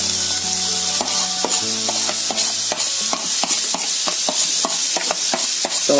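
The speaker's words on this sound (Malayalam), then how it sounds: "നമുക്ക് സവാള ചേർത്ത് കൊടുക്കാം. പച്ചമുളക് കൂടി ചേർത്ത് വഴറ്റിയെടുക്കാം." Onion and green chili sautéed in hot palm oil, with steady sizzling and repeated scraping stirs of a spatula against the pan, close and loud with no talking.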